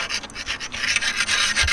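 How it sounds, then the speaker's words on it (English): A trident spear is sharpened on a concrete sidewalk, giving repeated gritty scraping strokes of metal on rough concrete. The strokes come in a quick, steady back-and-forth rhythm, close and loud, with no voices. "I need to sharpen this spear. So I'm just using this sidewalk"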